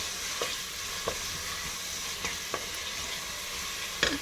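Sliced onions fry and roast in oil for an Andhra-style mutton curry, giving a steady hiss with occasional spoon taps and scrapes from stirring, moderately quiet and with no voices.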